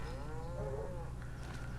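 A single low, drawn-out moo from a cow, close and alone against steady background noise.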